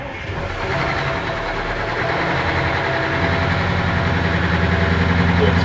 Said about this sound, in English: I'm going to start the engines.